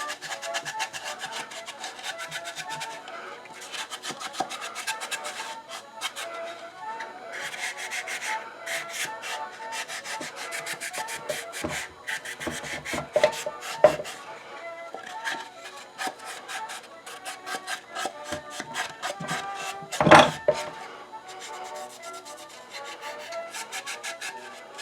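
Parts of an old wooden hand-crank coffee grinder being cleaned, with continuous close scraping and rubbing against wood, dense and gritty, with a few louder scuffs and knocks near the end.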